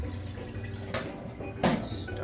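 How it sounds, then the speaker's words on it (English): Cold water is poured out of a pot into a kitchen sink after boiling eggs, with a couple of brief splashing bursts over a low, steady background. "Let's get rid of some of the cold water."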